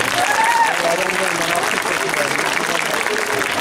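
Audience applause at a concert during the Mudurnu fair, a steady dense wash of clapping from a crowd, with a voice faintly audible over it throughout the short stretch.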